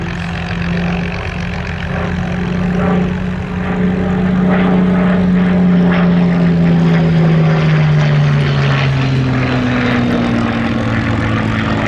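A WWII propeller fighter in black-and-white D-Day stripes roars loud and close past an airshow crowd, its engine drone sustained throughout with a falling pitch as it passes, no voices heard.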